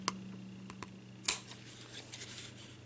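Scissors cutting a place mat for a craft tag, a few quiet snips with one sharper close cut in the middle, otherwise soft room noise.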